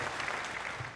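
A crowd applauds in a short burst of dense, steady clapping at moderate volume, fading slightly toward the end.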